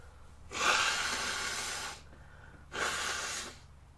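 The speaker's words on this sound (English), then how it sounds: "I need to blow my nose." A person with a cold blows their nose in two bursts: a longer honk-like blast lasting about a second and a half, then a shorter one after a brief pause, heard close and alone.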